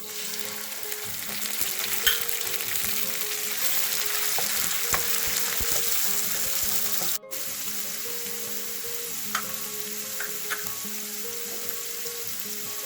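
Tomatoes, curry leaves and green chilies sizzle steadily in a hot pan, giving a continuous close frying hiss with occasional stirring clinks and a brief break partway through.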